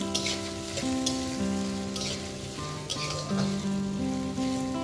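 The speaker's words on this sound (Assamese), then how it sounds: "এই পিয়াজখিনি মই ভালদৰে ভাজি লম 2 মিনিট মানৰ কাৰণে" Onions frying in a pan over a medium gas flame give a steady, close sizzle that runs throughout, under a layer of tuneful background music.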